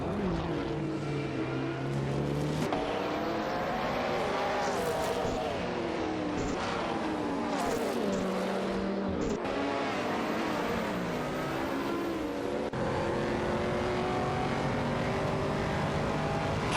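Several race cars duel in an AI racing video game, including an Oldsmobile Cutlass SCA and a Ferrari I40 Competition fighting for seventh place, their engines droning and shifting pitch continuously with whooshing passes throughout.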